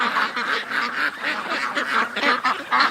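A group of ducks quacks in a dense, overlapping burst close by, with honking calls repeating rapidly and no talk over them.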